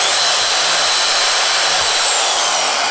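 A Festool Domino joiner cutting without dust extraction, a steady loud high-pitched motor whine and cutting hiss held close throughout, with no talk.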